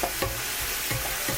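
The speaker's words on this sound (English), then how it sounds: "So you would know the meat is dry, or the moisture is dry, when it starts sizzling." Ground meat sizzles loudly in a wok for mapo tofu, a steady close frying hiss broken by a few soft stirring scrapes, with no voices.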